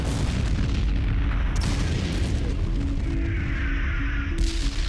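Massive artillery bombardment opening a night attack, a continuous rumbling roar of booms and blasts, loud and dense throughout with a low sustained drone underneath.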